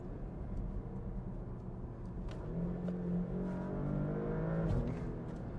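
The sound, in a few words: Porsche Panamera accelerating on road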